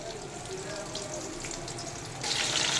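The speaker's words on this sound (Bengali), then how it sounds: "আমি চিকেন ফিঙ্গারগুলোকে ভেজে নিচ্ছি" Chicken fingers coated in egg batter fry in foaming hot oil, giving a steady close sizzle and crackle that grows louder and brighter near the end.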